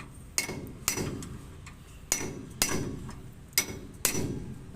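Hammer blows strike a leaf spring on a six-wheel truck, six sharp metallic impacts at uneven intervals, each ringing briefly before fading, close and clear with no voices.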